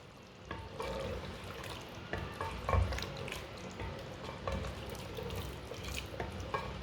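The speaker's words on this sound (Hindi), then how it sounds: "थोड़ा सा गरम मसाला डालेंगे," Meat and garam masala being stirred in a clay pot, a close, steady scraping and stirring with a soft sizzle throughout and occasional louder knocks, no speech.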